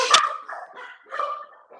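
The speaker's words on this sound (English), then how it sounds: "There goes the dogs." A few sharp dog barks and yips close by, one loud bark followed by softer, whiny ones.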